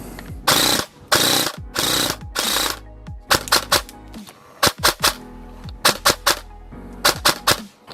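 An Acetech Bifrost tracer unit on an airsoft gun firing in sniper mode, heard as sharp mechanical bursts: several longer rattling volleys early on, then clusters of quick single snapping shots separated by brief pauses.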